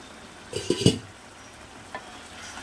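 Pan of bottle gourd sukto is given a quick stir, with a few clattering scrapes and knocks against the pan over a soft sizzle, followed later by one lighter tap.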